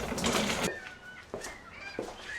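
A burst of noisy flapping gives way to a few scattered, harsh bird squawks and clucks, fairly close amid quiet background.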